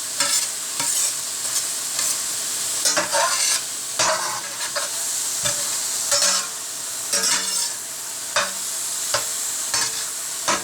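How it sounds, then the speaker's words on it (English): Scrambled eggs with added ingredients sear and sizzle in a pan while being stirred, with a steady frying hiss broken by repeated scraping stirs throughout, close and fairly loud, with no talking. "it doesn't take long to get the eggs to sear and solidify"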